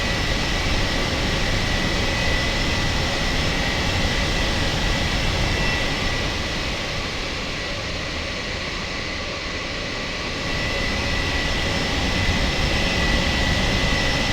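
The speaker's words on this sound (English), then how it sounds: "The 707 has a huge idle thrust, and that really shows right now." Boeing 707 jet engines run at idle thrust during descent, a steady broadband roar and whine heard from inside the aircraft, continuous throughout with a slight dip midway and no voices.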